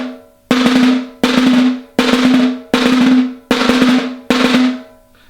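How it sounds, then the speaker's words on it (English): Six sustained buzz rolls on a samba caixa snare drum, each a dense sizzling press of bouncing sticks that decays before the next, in an even rhythm, close and loud with no talk. "The buzz roll builds off the bounce hit, but has a slight variation to create that buzz."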